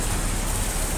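Steady rain falls on an outdoor market in Hong Kong, a continuous dense hiss of drops pattering on surfaces that stays even in loudness throughout, with no voices.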